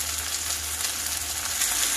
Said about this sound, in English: once this stuff starts frying good.